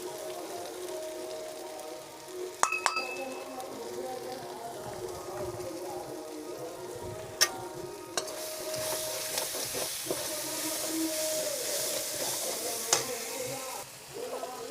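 Salt, chili, turmeric and coriander powder fry in a tomato, garlic and onion paste for a fish curry, a continuous soft sizzle with occasional clinks and taps of a utensil against the pan.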